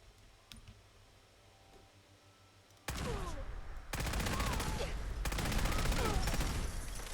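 PDW Model 90 gunfire in Fallout 4 starts after a quiet stretch with faint clicks, then runs as dense, loud rapid bursts of shots to the end, with brief pauses between.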